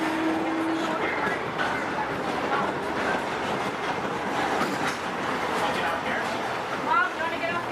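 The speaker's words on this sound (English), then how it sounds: "seated until the train comes to a complete stop" The Disneyland Railroad train rolls along with a continuous rumble and rattle of cars on track, mid-loud and steady throughout, while voices and an announcement carry over the top.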